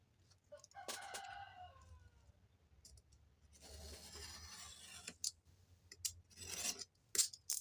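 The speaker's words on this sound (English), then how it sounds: "Listening to my roosters scream at the neighbors." Roosters crow a few times at a moderate distance, mixed with scraping and rustling sounds close by.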